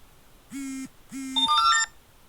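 A phone notification tone from the TikTok app, sounding as two short low buzzes followed by a quick rising cluster of bright chimes, close and fairly loud with no talking.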